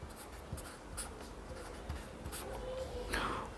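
Pen or chalk writing out numbers during a Class 8 maths lesson on squares and square roots, a run of short scratchy strokes and taps, fairly quiet and close, with no talk.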